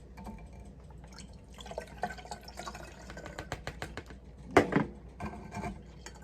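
Grated coconut is squeezed by hand to extract fresh coconut milk, giving soft wet squelches, rubbing, and liquid dripping and trickling close by, with one louder splashy squeeze near the end.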